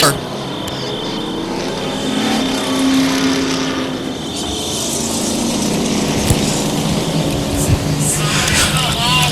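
Stock cars roar around an oval track in a steady, loud wash of engine noise, with a race announcer talking over it throughout.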